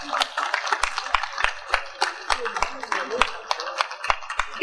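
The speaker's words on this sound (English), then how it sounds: "give the House of Assembly a round of applause for passing that law" Audience at a Yoruba language event honoring a state House of Assembly breaks into scattered, uneven clapping, a room of people applauding at moderate distance with sharp individual claps throughout.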